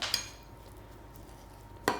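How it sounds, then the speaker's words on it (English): A spoon works full-fat Philadelphia cream cheese in a bowl for a Bakewell tart, with two sharp, close clinks of metal against the bowl at the start and end and quieter scraping in between. "I'm going to get a spoon involved here. And then again, just mixing that up"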